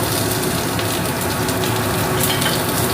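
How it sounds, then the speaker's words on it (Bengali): Black cumin seeds fry in hot oil in a home kitchen, giving a loud, dense, continuous sizzle and crackle with no voices. "তেলের মধ্যে কালো জিরে ভাজা হবে"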